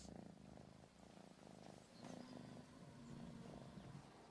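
A cat in the Elder Scrolls Online video game purrs in a steady low rumbling loop, quiet and continuous, set against soft ambient game noise with no talking.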